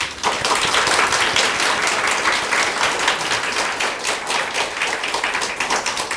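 A roomful of people at a church service applauds continuously, a steady wash of many hands clapping at even loudness from start to finish.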